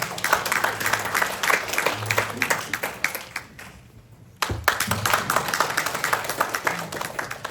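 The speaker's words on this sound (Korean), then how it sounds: "민주상품정책연구원님을 뜨거운 박수로 환영해 주시기 바랍니다" Audience applause welcoming a lecturer at a New Year lecture, a dense patter of many hands clapping that dips briefly into near-quiet around the middle before resuming at full strength.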